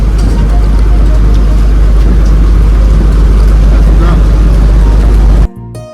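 A motor launch boat cruises near Godkhali ferry ghat in the Sundarbans, its engine a loud, steady low drone with water and wind noise, running continuously before cutting off abruptly near the end.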